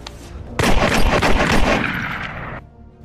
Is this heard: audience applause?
no